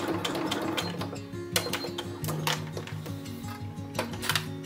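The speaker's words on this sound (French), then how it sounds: "je tourne et je continue à coudre comme ça" A sewing machine stitches a quilted fabric coin purse, running in quick bursts of rapid mechanical clatter with short pauses between runs, close and fairly quiet.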